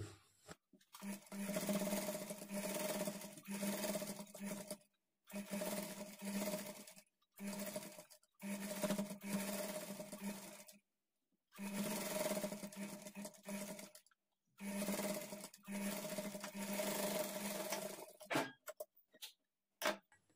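A sewing machine stitches a hemming strip onto a child's lehanga blouse in repeated short runs, a rhythmic mechanical whir with a humming tone, stopping and starting many times with brief silences between.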